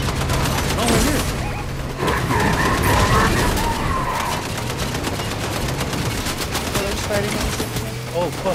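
Gatling gun fire in a shooter video game, loud continuous rapid bursts mixed with other gunfire and impacts, while players talk over the action.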